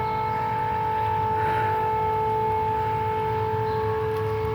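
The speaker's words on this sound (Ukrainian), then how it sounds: "Повітряна тривога." An air raid siren during an alert in Ukraine wails steadily at a sustained pitch, loud and unbroken from start to finish.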